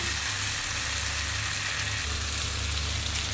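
Pieces of taro frying in a pan, heard as a steady, even hiss of oil with a low background hum and no talking.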